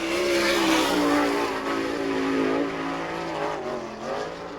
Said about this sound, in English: Reimer down the back straightaway.